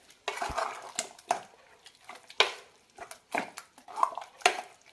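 A spoon stirs a pumpkin erissery curry mixture in a metal pot, making a string of irregular clinks and scrapes at close range, moderately loud, with no talking.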